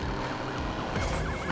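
A wailing police siren rises and falls repeatedly during a police chase in the racing video game Need for Speed Payback, loud and continuous over engine noise, with no talking.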